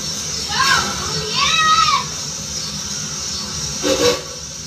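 An 1897 steam locomotive built for a Louisiana sugar plantation, pulling passenger coaches, gives short whistle blasts amid steady hiss, with children's voices in the background.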